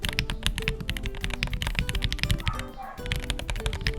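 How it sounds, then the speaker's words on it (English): Rapid, continuous typing on an MW75 mechanical keyboard fitted with Gateron Milky Pro Yellow switches, stock with no foam or tape mods; dense, close clacks in a steady flurry that dips briefly before resuming. "muted talky keyboard with the Gatron Milky Pro Yellow"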